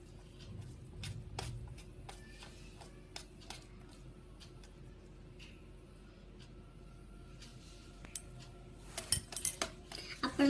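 A meal of pea curry with onion and chilli eaten from a plate: sparse, quiet clinks and scrapes of a utensil on the dish, growing a little busier toward the end, with faint voices.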